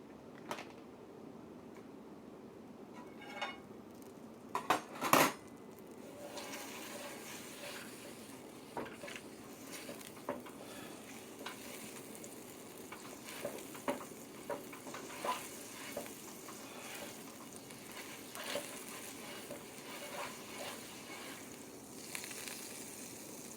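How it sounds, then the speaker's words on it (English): Butter melts in a hot cast iron pan for peach cobbler pancakes, a faint, steady sizzle with a couple of louder clatters early on and light scattered crackles. "Yes, butter should be looking like that in your pan."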